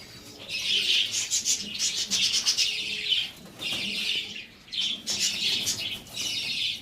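Pigeons released from a loft in a burst of loud, close wingbeats, flapping in repeated bursts with brief pauses, mixed with a few faint chirps and no talking.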